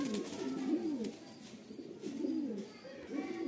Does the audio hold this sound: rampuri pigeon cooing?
yes